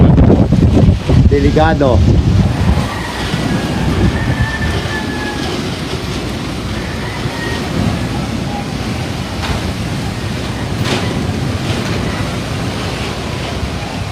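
Strong wind roars steadily throughout during an overnight storm with rain in the Philippines, a loud broadband rush with gusts, and a brief spoken word near the start.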